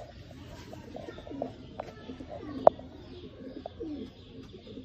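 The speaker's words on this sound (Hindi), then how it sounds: "चैम्पियन दोस्तों सियालकोटी बटेरे कबूतर, बटेरे भी कह सकते हैं, शर्मीले भी कह सकते हैं इनको।" Soft, low coos from a Sialkoti pigeon rumble nearby, with a few sharp clicks and light chirps scattered through.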